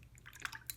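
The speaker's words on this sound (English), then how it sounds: "I rinse my brush off" A paintbrush rinsed in a cup of water while acrylic painting, a brief faint swish with a couple of tiny drips and splashes, close by and quiet.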